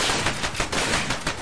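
Shotgun fire in the video game Far Cry 2: a dense, continuous barrage of loud overlapping blasts with no pauses, close and harsh, filling the whole moment without talk.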